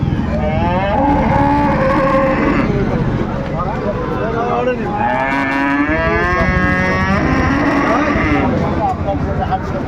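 Bulls at a busy livestock market in Dinajpur, Bangladesh, sold for Qurbani, low loud moos repeating one after another throughout, with a crowd talking continuously underneath.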